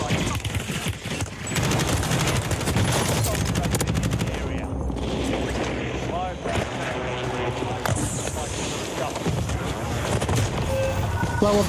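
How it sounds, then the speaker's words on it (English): Rapid automatic gunfire and shots in the video game Warzone, dense bursts and continuous firing throughout, loud and close, with someone talking over it. "Guys over here shooting me through the ground."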